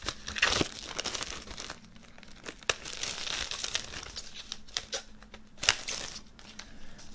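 Packaging for an album box set crinkles and rustles in bursts while being unboxed, close and crisp, with sharp crackling peaks and quieter handling in between, no talking.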